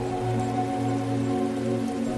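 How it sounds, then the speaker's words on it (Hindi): A steady wash of rain as a sound effect in a documentary about acid rain on the early Earth. It falls constantly under a low, sustained musical drone. "अब चूंकि धरती पर लगातार कई सालों तक बारिश होती रही"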